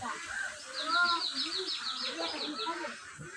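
Large ducks on a duck farm quack and honk in a busy, overlapping flock chorus close by, with a person talking over the calls.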